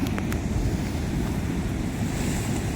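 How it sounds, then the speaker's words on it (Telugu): Gentle waves of the Godavari river lapping and washing steadily, with a continuous broadband rush and low rumble, loud and close, with some wind noise on the microphone and no voices. "వాటర్ ఫ్లోలో వెళ్తుంది ఫాస్ట్గా కాదు స్లోగా కాదు అలా అలల వెళ్తున్నాయి"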